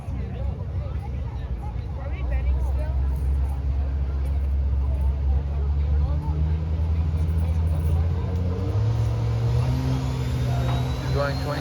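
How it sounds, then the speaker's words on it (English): A 1200hp Cummins diesel mega cab pickup builds revs at a drag strip launch, loud engine rising and shifting in stepped pitch climbs, with voices and crowd noise around it. "I think we'll do like a 22 pound launch and try not to miss the shifts this time"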